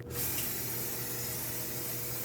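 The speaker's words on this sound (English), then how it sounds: "I will rinse this down with some brake parts cleaner." Brake parts cleaner sprayed from an aerosol can onto the front brake hub of a 2016-2022 Mercedes-Benz GLC300, a steady close hiss that starts abruptly and holds for a couple of seconds.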